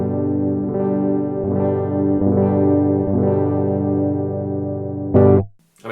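A Glarry GTL semi-hollow electric guitar plays clean with the tone knob fully down, giving a dark, warm sound as several sustained chords are struck in sequence. A brief noisy scrape near the end cuts off into near silence.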